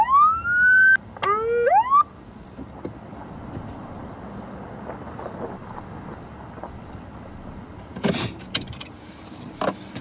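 Police car siren wailing loudly in rising and falling sweeps for about two seconds during a traffic stop, then cutting off, leaving low road and engine rumble with a few brief clunks.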